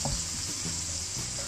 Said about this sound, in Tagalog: Haluin lang natin mabuti para lumambot ang sibuyas.